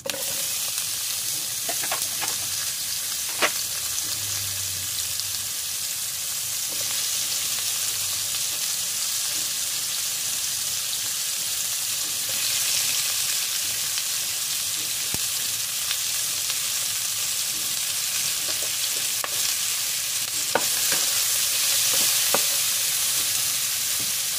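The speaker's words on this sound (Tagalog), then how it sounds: "Para lutuin natin yung ating sibuyas. Lagyan na natin ating sibuyas" Chopped onions sizzle and hiss steadily in a hot pan with a few scraping stirs and light clinks, a continuous close frying sound for tuna steak with no talking.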